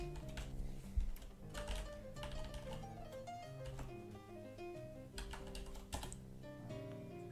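Rapid typing on a computer keyboard set to a German layout, close and crisp, with irregular bursts of key clicks and a few heavier strokes running throughout.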